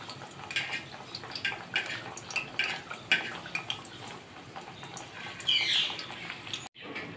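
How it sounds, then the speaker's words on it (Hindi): Kachoris deep-frying in hot oil in a kadhai over a slow flame, a steady soft crackling sizzle with scattered bubbling pops and a brief clink near the end, no voices. "एक एक करके कचौरी डालेंगे और स्लो फ्लेम पे करनी है।"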